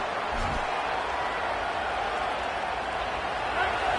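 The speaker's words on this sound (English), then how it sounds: "This crowd, full throat, splitting the eardrums and letting them know it's going to be a long day." A football stadium crowd roars steadily, a dense, continuous wash of cheering noise filling the whole stretch at fairly even loudness.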